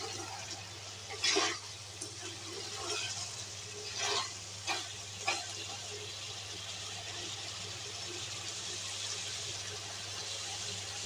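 Masala frying down with beef and bottle gourd, a faint steady sizzle under a low hum, with a few louder clattering stirs near the start and middle and no voices.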